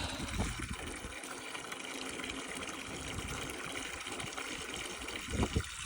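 Water gushes steadily from a pump, a continuous rushing splash with a low mechanical rumble and a few brief knocks near the end as the pump starts sucking air.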